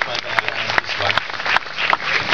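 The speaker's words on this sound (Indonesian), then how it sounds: "Kita berikan aplaus kepada mahasiswa" An audience at a Kenduri Cinta gathering applauds a student speaker, a dense, steady wash of clapping from many hands with a few sharper individual claps standing out, crowd murmur blended beneath.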